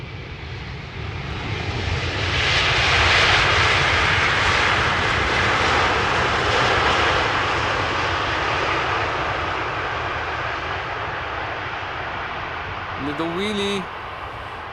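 A Boeing 777 airliner, seventeen years old, lands at Amsterdam Schiphol Airport with a loud, steady engine roar that swells and then eases, lasting the whole span, while a voice talks briefly near the end.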